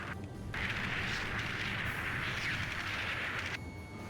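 Tank fire and explosions in Ace Combat 5 blend into a sustained, distant-sounding rumble of blasts and booms that fades sharply near the end.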